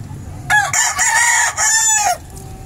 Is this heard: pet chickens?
yes